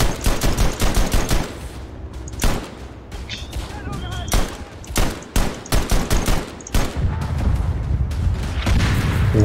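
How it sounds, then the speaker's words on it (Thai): Rapid gunfire bursts and booming shell explosions from the World War I video game Verdun, loud and dense with sharp cracks and heavier blasts, while a player talks intermittently over the battle. "ระเบิดลงหลบก่อน"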